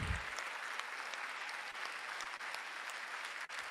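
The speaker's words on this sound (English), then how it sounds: "So we want a very resounding applause for them" Resounding audience applause for the parents at an induction ceremony for newly qualified medical and dental practitioners, a dense, even roar of many hands clapping continuously throughout.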